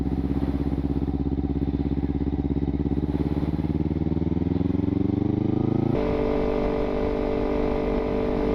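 A 2015 Kawasaki Ninja 300 being ridden produces a loud, steady buzzing engine note that climbs in pitch as it revs, then drops abruptly around a gear change and continues at a lower, rougher tone.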